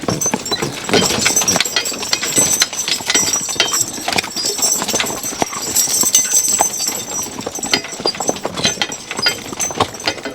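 Working horses hauling logs through winter woods clop steadily, their hooves striking in a brisk, loud, close rhythm with occasional clinks of harness and chain throughout.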